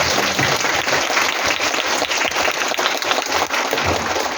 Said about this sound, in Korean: 박건희 위원님께 다시 한번 큰 박수 부탁드립니다